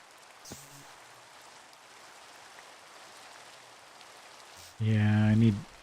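Soft, steady rain patter from the Minecraft modpack GregTech New Horizons fills the background, then a loud voice breaks in near the end over the rain.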